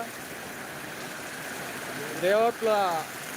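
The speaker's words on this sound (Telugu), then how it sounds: "మండల కేంద్రంలో భారీ వర్షం" Steady, dense hiss of heavy rain throughout at the Devaruppula mandal centre in Jangaon district, with a voice briefly speaking over it near the end.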